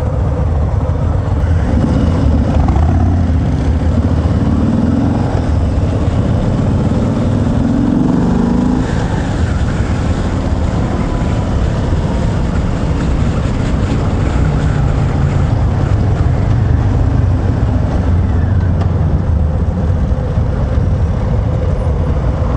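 A 2019 Harley-Davidson Sport Glide with its stock 2-into-1 exhaust rumbles loudly and continuously while being ridden, its engine note rising and falling under heavy wind noise throughout.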